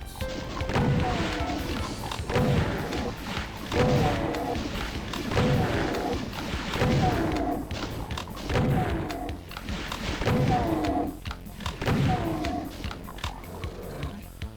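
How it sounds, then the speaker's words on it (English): Rocket blasts and explosions from the Doom WAD Alien Vendetta, fired at imps: a string of heavy booming impacts repeating every second or so, loud and close, with crashing game effects between them. "Blast away at the imps with your 4 rockets."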